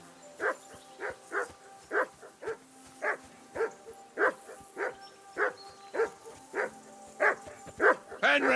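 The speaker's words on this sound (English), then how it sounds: "That barking was a pain in the ass." Mutt, a dog in Kingdom Come: Deliverance II, barks again and again in short, evenly spaced bursts, about a dozen loud, close woofs with faint yips between them and no talk over them.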